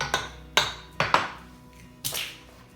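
Eggs cracked one at a time against a bowl while making New York cheesecake filling, giving several sharp, close knocks spaced irregularly, each with a short ringing tail, and no talking.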